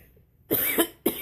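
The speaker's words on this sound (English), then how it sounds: "When I talk, I cough." Two sharp coughs ring out close up after a brief quiet moment, the first slightly longer than the second.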